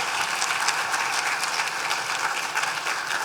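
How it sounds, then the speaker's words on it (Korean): Dense congregational applause at an evening church gathering, loud and continuous throughout with no voices over it. "박수 한번 더 해주시겠습니다"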